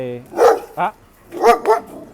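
Several dogs bark in short, close, loud bursts, with two yips near the start and a pair of barks about a second later, over a quiet background.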